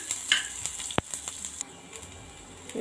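Onions sizzling and frying in a pan while being made into chutney, with a steady hiss and crackle, a couple of sharp stirring clinks, and occasional spatters close by.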